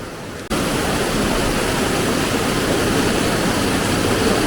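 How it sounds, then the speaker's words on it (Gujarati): Heavy monsoon rain falls in Gandhinagar, a dense, steady hiss that starts suddenly after a quieter moment and stays loud and unbroken to the end. "તો અમારે ગાંધીનગરમાં મોન્સૂન સ્ટાર્ટ થઈ ગયું એવું કહી શકાય."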